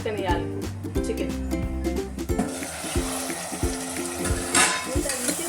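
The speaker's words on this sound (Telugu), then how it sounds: "హై ఫ్లేమ్లో పెట్టి ఉడకనియాలి చికెన్" Chicken sizzling in a pan on a high flame, a steady frying hiss with clattering stirring strokes, while someone talks throughout.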